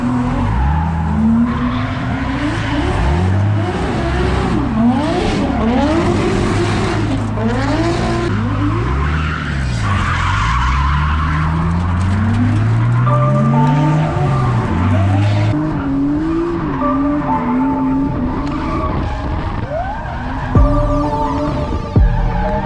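A Volvo drifts hard, its engine revving up and down in loud sweeping waves while the tires squeal at length, with a second car audible in what sounds like a tandem run; no one speaks.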